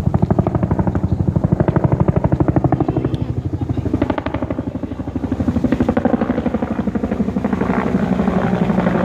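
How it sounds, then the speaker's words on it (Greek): A helicopter flies nearby, its rotor thumping in a fast, steady rhythm that swells and eases slightly over the whole stretch. "Δεν είναι ελικόπτερο που κουβαλάει νερό"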